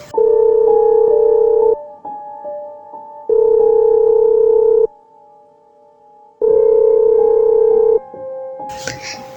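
Telephone ringback tone from a dialed call, three long steady ringing bursts separated by pauses of near silence, loud and close, with a brief burst of other noise at the very end.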